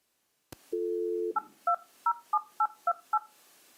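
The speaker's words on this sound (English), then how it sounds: "Please do not dial a 1 when dialing this number." A phone line opens with a click and a brief steady tone, followed by seven quick, evenly spaced keypad tones as a telephone number is dialed, close and clean against a quiet background.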